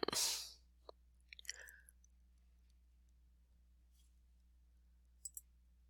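A computer mouse clicks a few times while working in Excel: faint, sharp, isolated clicks in an otherwise quiet room.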